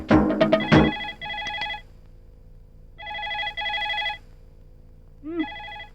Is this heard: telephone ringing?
yes